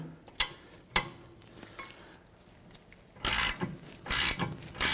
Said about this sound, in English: To get this caliper bracket off, we're going to remove this bolt here and this bolt down below.